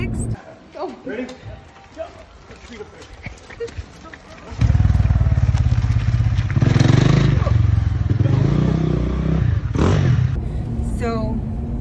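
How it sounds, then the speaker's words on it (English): A KTM 150 SX two-stroke dirt bike fires up and runs loud and close on a trail, a rough steady engine drone taking over after a few seconds of quieter handling noise, with a voice briefly heard. "this is the first time I'm going to drive my KTM"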